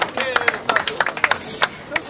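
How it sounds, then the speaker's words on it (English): Scattered, uneven clapping from a modest audience at a foundation launch, distinct close hand claps mixed with background chatter and voices. "here is another round of applause for Flaviana Matata"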